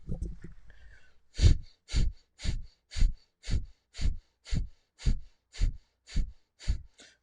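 Rapid yoga panting through the nostrils: about a dozen sharp, evenly spaced breath bursts in a steady rhythm, close and fairly loud, after a brief softer breath at the start.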